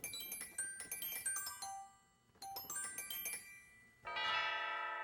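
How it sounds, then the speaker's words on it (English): Glockenspiel stop of a large church pipe organ with real metal bars, ringing out bright, crisp bell notes in quick descending runs, then a pause and another run ending in a sustained shimmering chord. "The Glockenspiel is built with real metal bars, producing a crisp and percussive bell tone."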